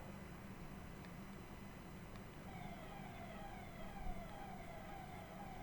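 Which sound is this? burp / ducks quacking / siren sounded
siren sounded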